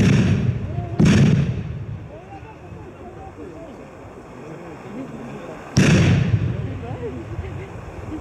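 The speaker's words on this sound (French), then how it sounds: "Grenade!" Grenades at a protest burst with two loud sharp blasts several seconds apart, each followed by a rumbling decay, in an open outdoor setting, with people shouting and talking in between.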